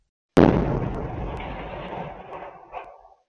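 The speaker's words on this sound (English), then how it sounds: "A backyard security cam from a nearby apartment captured the sound of the blast." A condo building explosion in Maryland picked up by a nearby backyard security camera: one sudden deep boom that rumbles and decays over about three seconds, loud and distant, no talking.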